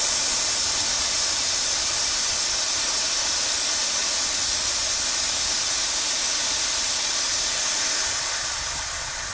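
A pressurized spray canister discharges a cloud of spray in one loud, continuous hiss lasting about nine seconds, close by and steady, fading slightly at the very end, with no voices.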